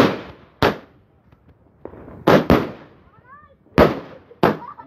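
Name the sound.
New Year fireworks exploding in village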